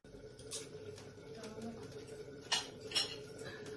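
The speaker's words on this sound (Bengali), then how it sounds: "এভাবে ঢাকনা দিয়ে আবার রাখলাম।" A metal lid set onto a pot while mutton kosha cooks, giving a few light clinks and scrapes, the two sharpest taps close together near the end over a quiet kitchen background.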